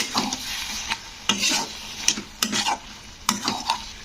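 Green tomatoes and ground spice paste stirred in a pan, a spoon scraping in repeated strokes of about half a second each over a soft, steady sizzle, close and alone without talk.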